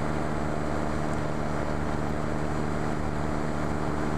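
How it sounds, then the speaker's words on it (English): An EMG 6 aircraft fitted with a dual-spark-ignition Polini 250 engine drones steadily in a test flight, a constant buzzing hum with no breaks and no voices. "the end of the first test flight series that we did on the EMG 6 with the Polini 250 dual spark ignition installed"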